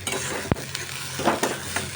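Spices sizzle in hot oil in a kadai while a spoon stirs them, with a sharp scrape of metal near the middle and softer stirring strokes after it, close and fairly quiet.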